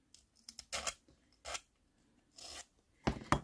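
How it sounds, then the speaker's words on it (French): A paper trimmer blade scrapes against a pumice stone in a few separate short rasping strokes with pauses between them, close and fairly quiet, the last stroke the strongest. "quand je gratte sur la pierre ponce"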